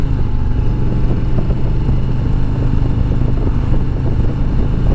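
A 2020 Harley-Davidson motorcycle on its stock exhaust idles loud and close, a steady low rumble with an even, pulsing throb that holds without revving.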